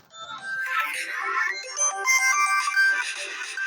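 A phone ringtone plays a bright electronic melody, steady and moderately loud, with no talking over it.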